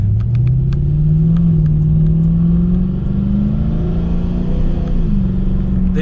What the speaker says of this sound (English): That's a loud diesel.